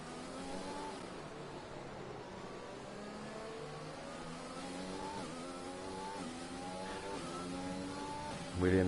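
F1 car engine in F1 2020 on a Vietnam GP race start, a sustained high revving whine climbing through gears with rising harmonic sweeps, steady and fairly quiet, with no voices.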